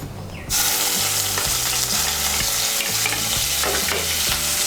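Ginger paste and green chilli paste hit hot oil in a tempering, bursting into a loud, steady sizzle from the first half-second on, with rhythmic spoon-stirring scrapes running through it.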